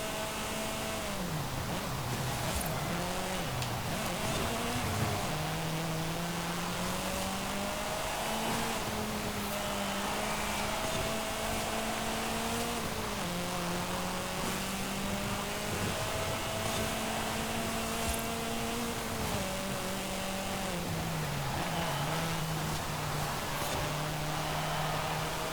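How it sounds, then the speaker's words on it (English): A Mitsubishi Galant VR-4 engine in Forza Horizon 5 roars steadily, its pitch climbing and dropping with repeated gear shifts over a constant hum. "Standard car's a little bit muted in terms of its engine noise"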